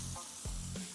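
Smash burger patty frying on a hot griddle, a steady close sizzle with two brief louder bursts as the meat is pressed and shifted.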